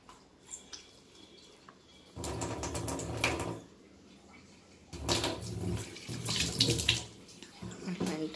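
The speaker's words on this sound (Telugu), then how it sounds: "వెంటనే ట్యాప్ కట్టేయడం." Tap water running into a sink or tub at home, two bursts of steady splashing flow separated by quieter gaps with low background voices.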